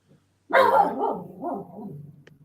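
A dog gives one loud, close bark that trails into a rough, wavering whine and growl, with no talk.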